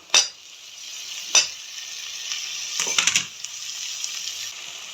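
Tomatoes added to a pan of golden-brown onion and garlic, giving a steady frying hiss with a few sharp clinks of a spoon against the pan and a brief burst of stirring near the end.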